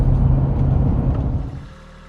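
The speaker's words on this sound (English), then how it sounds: "Here we are loading up the trailer, getting the tractor on there." A tractor engine idling and rumbling close by as it is loaded onto a trailer for brush pickup, a low steady drone that fades down near the end.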